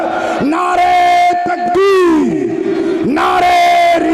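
A crowd at a Sunni religious gathering shouts slogans in unison, loud repeated chanted bursts with rising and falling voices, one leader's call followed by massed answering shouts.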